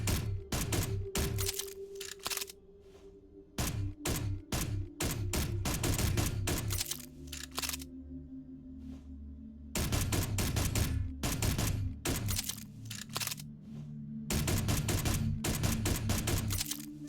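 Turret gunfire in Space Engineers: loud, rapid bursts of automatic fire in repeated volleys with short pauses, over a low steady mechanical hum.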